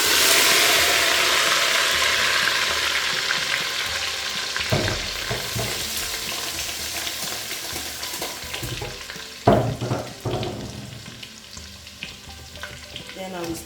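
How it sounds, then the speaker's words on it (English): Oil poured into a pepper and onion mix sizzles and fries loudly and steadily, with a couple of sharper bursts and stirring clatters partway through. No one speaks. "now I'm going to be turning the oil into my pepper mix"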